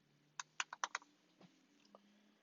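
A handful of quick, light keystrokes on a computer keyboard, close and quiet, clustered in a short rapid run followed by two isolated taps.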